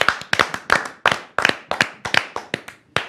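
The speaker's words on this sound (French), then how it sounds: "On va t'applaudir." A small studio audience claps in sharp, separate bursts, a handful of hands striking close and bright in a loose, uneven rhythm of about a dozen hits over a few seconds, with no voices over it.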